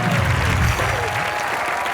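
A studio audience claps loudly for a few seconds on a Hindi TV comedy show, with a crowd murmur and a bit of background voice under the dense applause.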